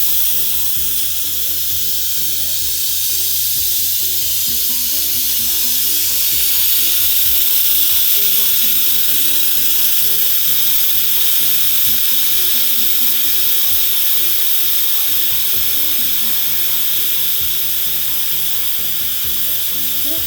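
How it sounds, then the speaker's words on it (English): Steam quick release from an Instant Pot pressure cooker during cooking of egg burritos, a steady loud hissing rush that holds continuously for the whole stretch without pause. "So what I'm gonna do is push this, and the steam is gonna release"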